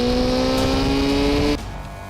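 Suzuki GSX-R1000 sport motorcycle engine screaming at high rpm, a loud sustained whine for over a second before dropping off abruptly.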